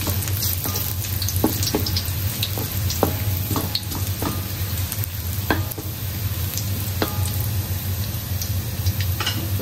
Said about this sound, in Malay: kita goreng dahulu bawang ni sampai dia kekuningan